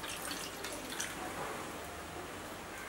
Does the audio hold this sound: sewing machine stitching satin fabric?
no